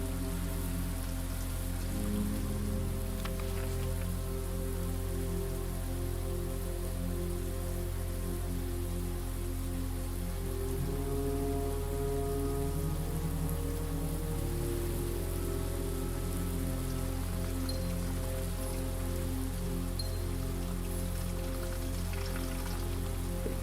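Steady drizzling rain patters continuously in the video game Blue Prince, an even, unbroken wash of soft droplets with no voices.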